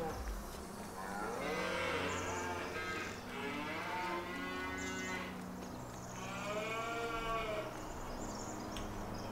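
Cattle in the Farming Simulator 19 video game moo repeatedly, several long, drawn-out calls overlapping in succession at close range over a low background hum.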